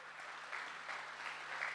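Steady, distant applause from a seminar audience of doctors, a soft continuous wash of many hands clapping at low volume with no voices on top.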